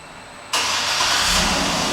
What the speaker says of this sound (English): Another feature in this vehicle is the remote start, and I'll show you how that goes right now.